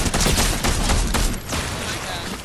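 Video game gunfire in an online shooter: a rapid volley of loud overlapping shots and bursts in the first second or so, then softer continuing fire beneath a dense wash of game noise.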